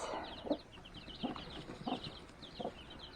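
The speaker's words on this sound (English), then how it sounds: "she is a happy or mama hen right now" A mother hen clucks in soft, spaced bursts, about four low calls across a few seconds, with faint chirping from small chicks in the background.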